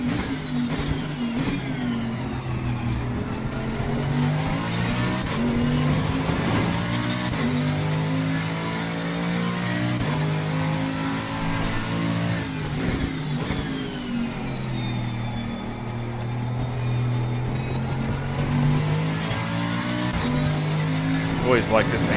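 Mercedes-AMG GT3 race car engine at Hungaroring in a racing sim, howling loudly through repeated upshifts and downshifts with rising and falling pitch sweeps, continuous throughout, with a voice talking over it.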